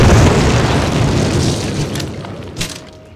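In a Call of Duty game, explosives blow up a cinder block wall in one heavy, booming blast that starts loud and fades out over a few seconds.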